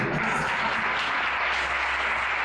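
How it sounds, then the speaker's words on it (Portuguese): A church congregation applauds a women's choir with steady, moderately loud clapping that continues evenly throughout. "Aplaudir."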